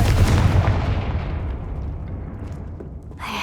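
A Confringo fire spell explodes in the Hogwarts Legacy video game, a loud, deep booming rumble that fills the clip and slowly fades over a few seconds, with a brief crackle near the end.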